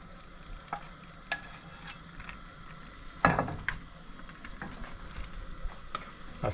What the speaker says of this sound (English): I'm gonna add the mushrooms in there, mix it up, and then let it cook with the rice for 5 more minutes